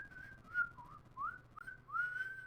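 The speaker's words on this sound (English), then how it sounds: "That's actually you whistling, right?" A person whistles tunelessly in a few wavering, sliding phrases with short gaps between them, faint and alone over a low background hum.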